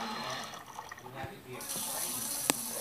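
Water runs from a kitchen tap to make a smoothie, a soft, steady hiss that grows fuller partway through, with a small clink near the end.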